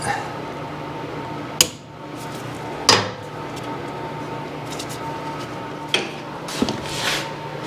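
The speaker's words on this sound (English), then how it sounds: "Now there's a retaining clip in there. Let's see if I can loosen that." A pry bar works at a retaining clip on a Simplicity snow blower, giving a few sharp, scattered metallic clinks and knocks over a quiet background hum.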